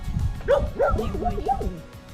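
A puppy meeting horses for the first time gives a string of high yips, whimpers and short barks close by, mixed with rustling and handling noise.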